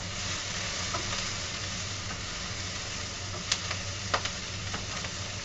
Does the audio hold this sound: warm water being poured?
no